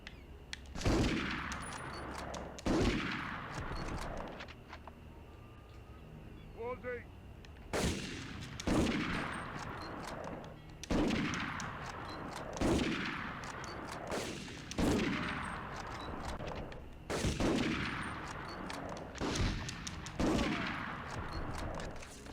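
Bursts of SMG gunfire in a PS1 video game, repeated every couple of seconds with sharp decaying blasts, loud and close, no talking.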